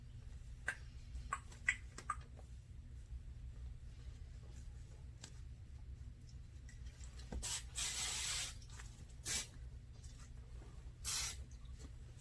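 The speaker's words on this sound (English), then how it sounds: "So just add hairspray" Hairspray is sprayed onto hair set in overnight heatless curls: three short, close hissing bursts from an aerosol can, separated by quiet pauses with faint handling ticks.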